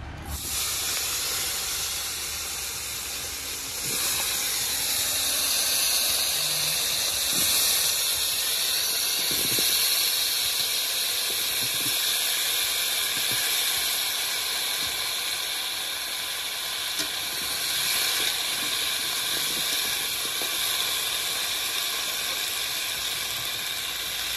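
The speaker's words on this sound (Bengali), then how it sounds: "এবার আলুগুলো ভেজে নেব।" Yam pieces fry in a pan, giving off a loud, continuous sizzling hiss that stays steady and close from start to finish.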